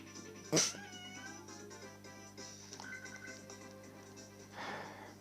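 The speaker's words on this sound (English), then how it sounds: "Sometimes it's like we're having a conversation with one another, me and my cat." Pet cat Dolly meows once, loud and close, then gives a softer, drawn-out vocal sound and a faint later call over a quiet background hum.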